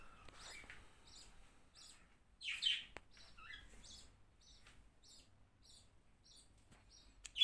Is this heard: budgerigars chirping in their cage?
yes